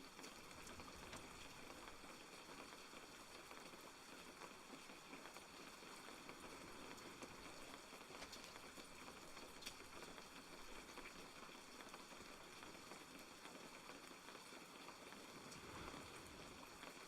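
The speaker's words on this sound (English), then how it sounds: "Good little rain cloud." Rain falls in the fishing video game Webfishing, a faint, steady patter of drops on a surface that continues evenly throughout with no talk.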